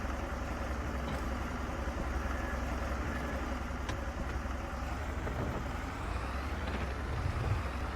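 A struggling tractor engine in Farming Simulator 22 drones steadily and loudly for the whole stretch, a low continuous rumble with no talking over it.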